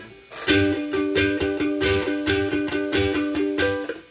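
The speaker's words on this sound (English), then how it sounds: "I want you to hear the distortion" A distorted electrified 1940s Tempo ukulele plays a fast, repeating strummed riff, buzzy and loud, with rhythmic chops throughout and no voices.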